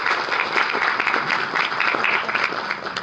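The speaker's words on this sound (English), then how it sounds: "A big round of applause for her." A teachers' gathering breaks into steady, fairly loud applause for a guest speaker, a dense patter of many hands held at an even level throughout.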